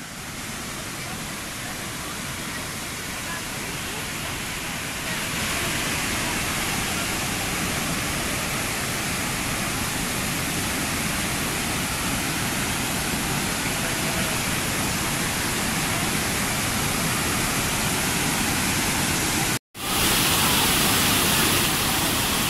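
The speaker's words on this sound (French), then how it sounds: "On va voir une cascade." Iguazu Falls roars as a steady, dense wash of falling water, loud and unbroken from start to finish, with a brief dropout just before the end.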